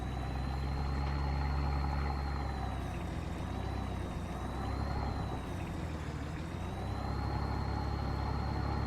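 A TLX 2020 truck engine pulling up a hill under about three-quarter throttle, a steady loud drone with a faint wavering high whine riding above it throughout.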